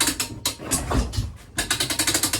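An easy lift jack raises a window air conditioner unit, giving a quick run of mechanical ratcheting clicks that speeds into a steady, evenly spaced series near the end, close and with no talking.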